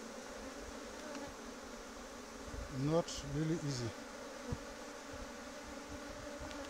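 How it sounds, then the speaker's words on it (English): African killer bees hum around their colony near a honey super, a continuous drone with a brief rising whine in the middle as one bee passes close, while a person speaks a few words. "So these are the bees."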